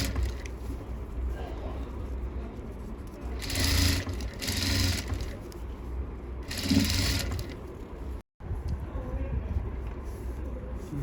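Sewing machine stitching a sleeveless blouse, bursts of fast mechanical whirring with short pauses between runs of stitching, close and moderately loud, no talk.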